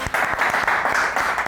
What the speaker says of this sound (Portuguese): Salva de palmas pro molho